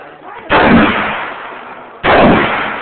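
Two loud, booming gunshots from a large-calibre gun at an outdoor shooting range, each sharp blast followed by a long ringing decay, roughly a second and a half apart.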